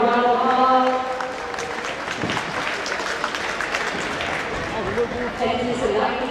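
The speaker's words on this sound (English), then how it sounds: "let's give these Warriors one more big round of applause" A crowd at a youth boxing event applauds the fighters, steady clapping under an announcer's voice over the PA, with faint chatter in the room.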